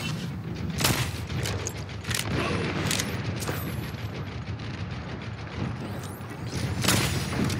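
Ana's sniper rifle firing in Overwatch amid busy game action: several sharp cracks spaced a second or more apart over a steady mechanical clatter and rumble.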